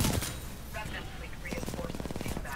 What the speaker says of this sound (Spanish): me están disparando desde la espalda